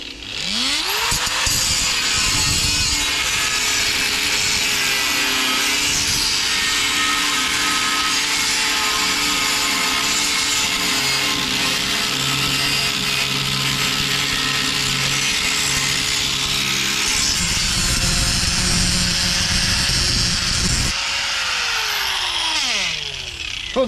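A 750-watt power tool cuts through tubes with a loud, close, continuous high whine and grinding rasp, the pitch shifting slightly as it bites, then it spins down at the end; no one speaks.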